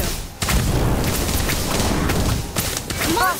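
An Incendio fire spell cast in Harry Potter: Magic Awakened, a dense, loud whooshing roar of flame that runs about two seconds, followed by brief crackling bursts and a short bright magical chime at the end.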